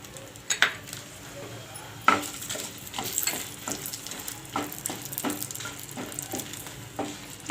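Dried red chillies fry in a tablespoon of oil in a pan with a soft, steady sizzle. Repeated light clinks and scrapes of stirring sound close by.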